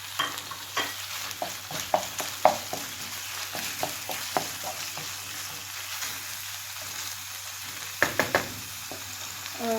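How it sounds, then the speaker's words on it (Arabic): Small chicken pieces frying in a pan with butter, steady close sizzle punctuated by scraping knocks of a utensil stirring, no voices. "غنزيدوا عليها الدجاج ديالنا مقطع طريفات صغار"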